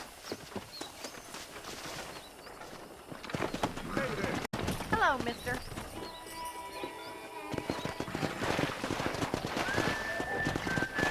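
Horse hooves clip-clop in the Red Dead Redemption game while horses are wrangled, a steady trotting patter beneath outdoor ambience, bird calls and occasional spoken dialogue.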